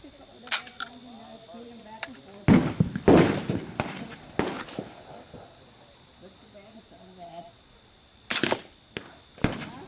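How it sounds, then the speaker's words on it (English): Sharp subsonic 9mm gunshots from LAX 147 grain factory new ammunition crack outdoors, a cluster of several reports in the middle and two more near the end, with insects chirping steadily behind. "Next is the LAX 147 grain factory new Subsonic."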